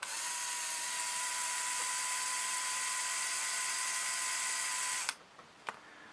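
A Lego large motor drives a Lego chain with a thin, steady high whir for about five seconds, then cuts off, followed by a couple of faint clicks.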